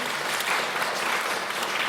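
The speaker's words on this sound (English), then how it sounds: "I feel like that should have some applause." Steady, dense audience applause, close and even throughout, at a live chat-and-tunes session with a Shetland fiddler.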